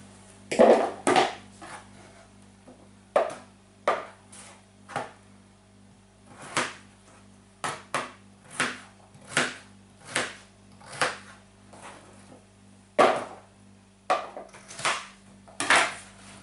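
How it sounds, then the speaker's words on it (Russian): A knife chops potatoes into cubes on a cutting board in an irregular series of sharp, close knocks, some in quick pairs, with short pauses between runs. "Картофель нарезаем кубиками."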